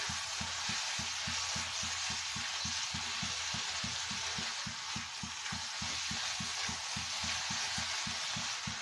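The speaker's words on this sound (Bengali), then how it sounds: "আমার ভর্তাটা ভাজা হয়ে আসছে, তেল ছেড়ে দিচ্ছে।" Eggplant bharta frying in oil gives a continuous sizzling hiss, with a steady run of soft low knocks from the mash being worked in the pan throughout.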